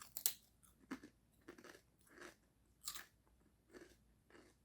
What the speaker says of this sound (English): I like the thick, crunchy chips.